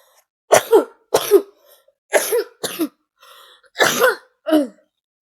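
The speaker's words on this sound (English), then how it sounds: "Mind me coughing." A person coughs six times in short, harsh bursts, some in quick pairs, close to the microphone with quiet gaps between.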